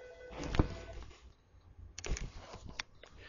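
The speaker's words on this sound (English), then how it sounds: "So I'm going to type /ROC, and I'll click OK." A handful of quiet keystrokes tap on a computer keyboard, soft and close, in two short bursts separated by a brief pause, with no talking.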